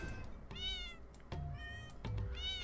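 Cartoonish cat meows from the video game Fowl Space, three bright, harmonic calls spaced about a second apart over a steady game soundscape with low thumps, no voices.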